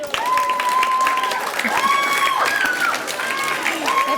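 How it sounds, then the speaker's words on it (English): At an elementary school DARE graduation ceremony, a crowd claps and cheers steadily for a graduate, close and loud, while a voice calls out over the applause. "Have your own cheering section."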